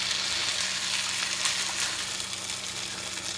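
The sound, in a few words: green chili stirred in a pan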